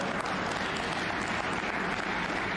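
A snooker crowd applauding a shot, a dense steady wash of clapping from many hands that fills the whole moment at a moderate distance, with no break.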